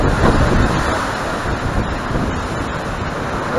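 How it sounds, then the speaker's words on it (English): Strong hurricane wind from Hurricane Harvey roaring steadily outdoors, a loud broadband rush with slight gusting swells and no voices. "A lot of wind, man."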